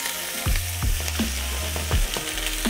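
Ingredients sizzle and fry in a pan, in a tomato and amber ale sauce. Steady hiss runs underneath, with repeated stirring scrapes and spatters every half second or so. It is close, loud and free of speech.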